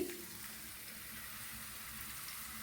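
Ginger sautéing in oil in a pan for a Kerala mackerel fish curry, a steady soft sizzle that holds evenly throughout with no talk over it.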